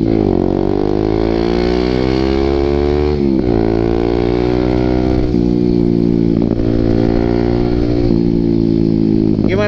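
A Kawasaki ZX6R motorcycle with a Muscov aftermarket exhaust idles and revs up close, loud and steady, its engine note rising and dipping with throttle blips throughout.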